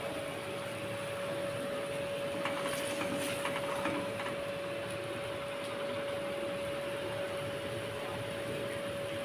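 Fish curry broth boils in a pan with a steady, even hiss and bubbling that runs unbroken at moderate loudness, with a faint constant tone underneath.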